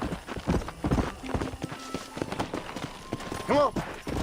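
Horse hooves clopping on the ground in Red Dead Redemption, a quick rhythmic clip-clop under game sounds and someone speaking, with a brief tonal game effect near the end.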